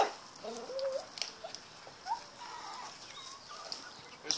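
Chickens on open land give scattered soft clucks and short calls, faint and somewhat distant, in a quiet outdoor setting.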